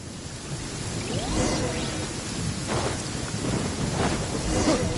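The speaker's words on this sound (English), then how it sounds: "Uh-oh! Lightning storm!" A lightning storm in the video game Genshin Impact, with a steady wash of heavy rain and low rolling thunder swelling and fading underneath, loud and continuous with no talk.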